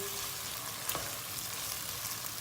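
Tomato paste fries with onion in a pot, giving a soft, steady sizzle and crackle close by, with one brief louder pop partway through and no voices.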